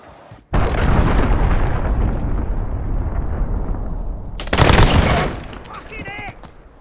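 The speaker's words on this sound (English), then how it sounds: "Cruise missile away." Cruise missile strike in Call of Duty: Modern Warfare, a loud continuous barrage of explosions and gunfire rumbling for several seconds, with a sharper blast burst near the end before it fades.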